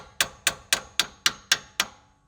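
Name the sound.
hammer gently tapping brake pad into place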